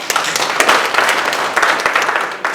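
A brief burst of applause from a small group at a workshop, scattered hand claps crackling for a couple of seconds without talk.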